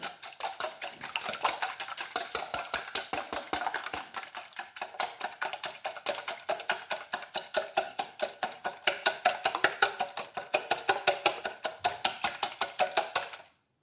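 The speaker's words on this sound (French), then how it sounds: "tout d'abord, il faut bien mélanger les œufs" Eggs beaten in a bowl with a utensil for a Portuguese salt cod fritter batter: rapid, regular clicking taps of the whisk against the bowl, close and sustained in a steady rhythm.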